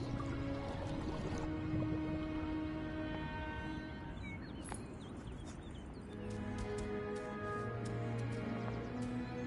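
Water drips and trickles with gurgling, filling sounds, quiet and close, in a steady irregular patter with faint tonal hum beneath.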